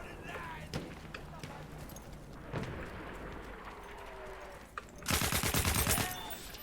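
Gunfire in a Battlefield 1 match on an Ottoman map: scattered single shots early, then a loud rapid machine-gun burst near the end, mixed with game ambience and faint background sound.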